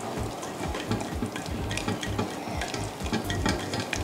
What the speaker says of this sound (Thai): โอเคใส่เนยช็อกโกแลตค่ะต้องรีบคนหน่อยนะ